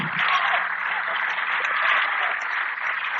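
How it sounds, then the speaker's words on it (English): Crowd applause in a high school basketball gym late in a one-sided game as a senior player subs out, a steady, dense wash of clapping holding at even loudness throughout. "Colton Pippinger will come out and gets a nice round of applause from the crowd."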